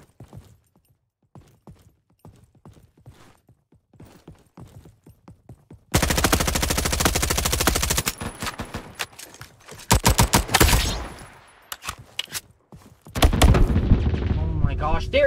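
A Roblox first-person shooter game plays rapid machine-gun fire in loud sustained bursts, with sharp isolated shots and brief pauses between volleys, following a stretch of quieter clicks and taps.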